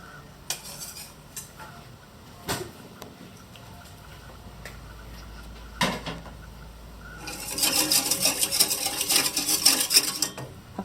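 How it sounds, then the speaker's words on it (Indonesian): Spoon stirring a milk, sugar and agar pudding mixture in a cooking pot, with sparse clinks against the pot that become a busier, louder scraping and clattering toward the end. "Aduk terus hingga mendidih"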